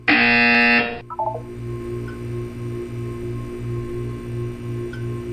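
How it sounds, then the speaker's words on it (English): A loud, harsh buzzer blares for about a second in the Portal 2 video game, followed by a short descending chime and a soft pulsing hum in the background. "You will hear a buzzer."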